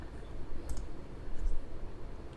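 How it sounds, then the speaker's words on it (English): Loud typing on a computer keyboard, a steady dense clatter of key clicks with a couple of sharper taps standing out, close and continuous throughout. "Why am I typing? I always type loud."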